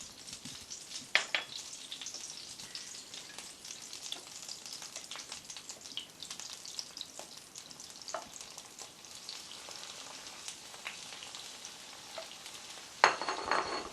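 Aubergines frying in a pan of oil while Spanish pisto is made, giving a steady close crackling sizzle throughout with scattered pops and stirring clatters, and a louder burst near the end.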